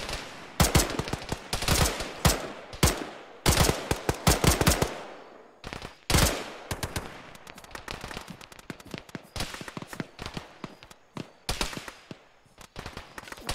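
Dense gunfire in the military shooter game Arma, with rapid bursts of automatic fire and scattered single shots, loud and close, continuing through the whole stretch with brief gaps.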